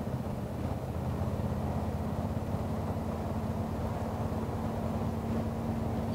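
A 1979 Volkswagen Beetle Convertible cruising through turns in fourth gear, its steady engine drone and road rumble holding an even, constant level with a low hum throughout and no clunks or squeals.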